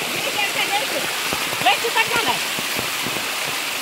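A hidden waterfall gives off a steady rushing hiss of falling water, fairly close, with faint voices and soft knocks mixed in.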